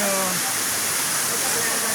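Waterfall at Cherrapunji, Meghalaya roaring as a dense, steady hiss of rushing water, loud and continuous, with a brief voice fading out at the very start.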